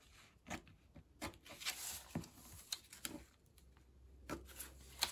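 Scissors snipping through paper while cutting a coin envelope, heard as a handful of quiet, separate crisp cuts and rustles close by, with no talking.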